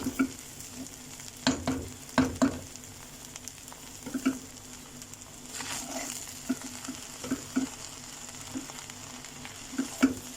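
Chicken schezwan fried rice being mixed in a hot pan: repeated soft scraping and tossing strokes over a low steady sizzle, close and moderately quiet, with no voices.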